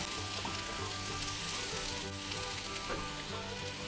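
Samosa masala gets a final stir in a hot pan after chopped coriander leaves are tipped in, giving a steady close sizzle with soft scraping running throughout and no one talking.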